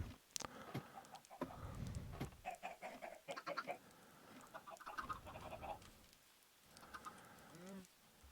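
Minecraft chickens cluck and squawk in short bursts, fairly close, with a busy scattered rhythm and brief gaps between calls.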